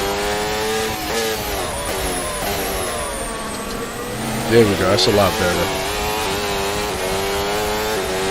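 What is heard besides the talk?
race car engine revving in a VR racing video game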